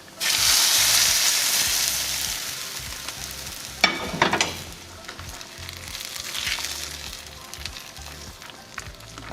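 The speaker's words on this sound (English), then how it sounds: "Set your burner on a medium heat and add your dried beef" Dried beef, carne seca, sizzles steadily in a hot pan on a medium burner, a loud continuous frying hiss with a brief clatter of stirring midway and no talk.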